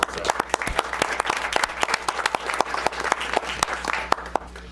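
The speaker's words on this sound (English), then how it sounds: "he deserves another round of applause from all of us" A modest audience at a city council meeting applauds, with distinct individual claps ringing out sharply over a lighter bed of clapping and a low room hum throughout.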